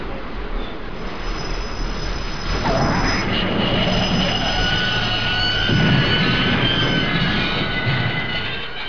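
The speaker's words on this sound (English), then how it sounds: "Why is the train stopping?" Steady rumble of a train with high metallic wheel squeal running throughout, gradually slowing, no voices.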